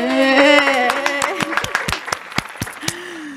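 A small studio audience claps to welcome guests on a talk show, scattered sharp claps that follow a voice and continue to the end.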